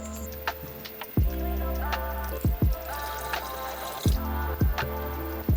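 Water pours and drips into a mixing bowl holding sourdough levain in short uneven bursts, with clinks and splashes between, close and fairly loud.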